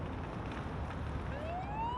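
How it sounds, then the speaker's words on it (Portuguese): An ambulance siren in a paramedic simulator video game begins to rise and wail partway through, climbing in pitch over a dense rumbling background of traffic-like noise. "Vamos ligar a sirene."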